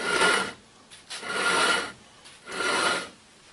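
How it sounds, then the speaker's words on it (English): Three rasping metallic scrapes from a Buick's brake wear indicator scraping a worn rotor, in a slow rhythm, each lasting about half a second to a second, with brief quiet gaps between them. "We got our little warning scraper there doing its job and scraping away"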